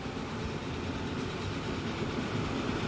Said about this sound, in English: There he goes. A serious freight train.